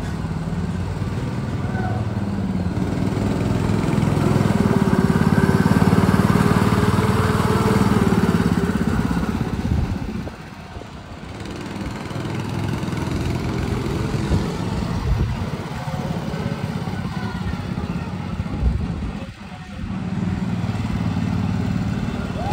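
A motorcycle-like engine revs hard under the throttle, holding a loud, steady roar that swells early, dips briefly twice and then picks back up, close by and continuous.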